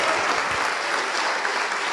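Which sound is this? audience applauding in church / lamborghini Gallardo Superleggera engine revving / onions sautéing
audience applauding in church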